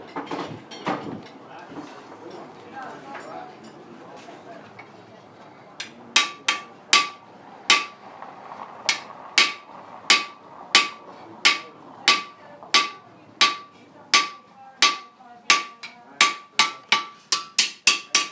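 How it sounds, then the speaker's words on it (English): A blacksmith forging a replica WWII knife hammers hot steel. Quieter clanks come first, then a long run of loud, evenly spaced ringing anvil strikes that speed up toward the end. "when you're hammering steel, the same thing's happening on the bottom as happening on the top"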